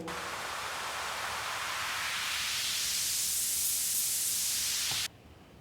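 Noise sweep effect from an Ableton Live DJ set: a steady, loud wash of white-noise hiss that slowly brightens and swells, then cuts off abruptly near the end, with no voices.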